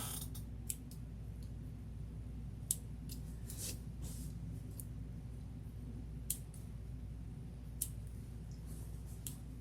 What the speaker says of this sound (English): These scissors aren't too sharp.